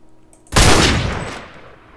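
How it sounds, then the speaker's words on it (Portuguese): A single loud gunshot in the video game DayZ bursts out and rings with a long, reverberant echo that slowly fades, fired in an enclosed corridor. "Dependendo do lugar onde tu tá e tu atira, o eco é diferente."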